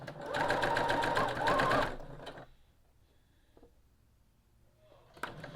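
A sewing machine stitches quilt fabric strips, including spotted blue fabric, in a string block, running in a steady rapid burst for about two seconds, then stopping before quieter handling noises.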